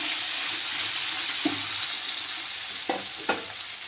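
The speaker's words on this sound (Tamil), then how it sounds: "நல்லா வதங்கி வரட்டும்." Ridge gourd peel sautéing with salt in a pan, a soft continuous frying hiss broken by a few spatula stirs and scrapes against the pan, no talk.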